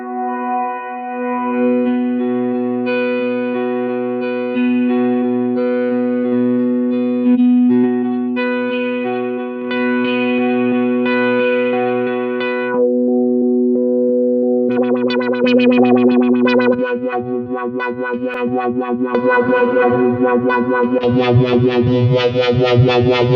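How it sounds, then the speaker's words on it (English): A held, droning synth pad note from UJAM Cinedream with shimmering effects slowly morphs into a pulsing, textured wash, steady and prominent throughout. "one note that's padding the track out, really cool effect, creating a bit of tension"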